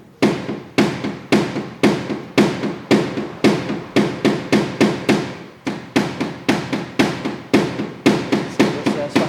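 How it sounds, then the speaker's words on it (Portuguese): A rubber hammer taps out a dent in a car body panel with a steady run of about thirty sharp, evenly spaced blows, close and loud, with no talking. "Já com o martelo de borracha,"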